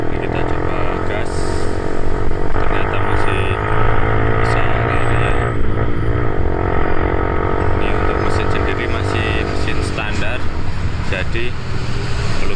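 A modified Yamaha Vixion motorcycle engine revs loudly and steadily at close range, its roar mixed with road and traffic noise, and someone talks over it throughout.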